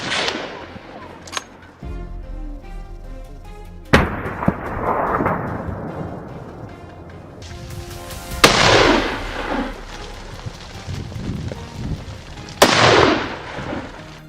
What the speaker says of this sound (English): A precise shot to a weak point brought the boar crashing down